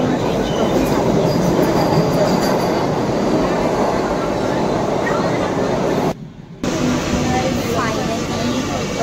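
A Mumbai local train runs along the line with a loud, constant rumble of wheels and carriages, heard from inside at close range, with a brief dropout partway through.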